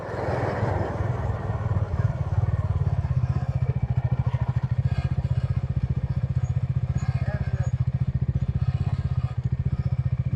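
Motorcycle riding along a road in India, a loud continuous engine thrum with a steady low pulsing beat and wind rumble throughout, close and unbroken.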